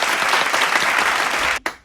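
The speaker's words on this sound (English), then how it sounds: "should we give these two guys a big round of applause?" Steady applause from a group at a virtual school assembly for two children, dense and continuous before cutting off abruptly near the end with a brief final burst.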